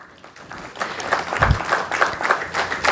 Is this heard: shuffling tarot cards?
no